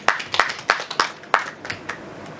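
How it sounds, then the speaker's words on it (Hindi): At a film trailer launch event, a small audience claps for a few seconds, producing a scattered series of sharp, uneven hand claps that thin out toward the end. "दीक्षित जी के लिए जोरदार तालियां बजाइए।"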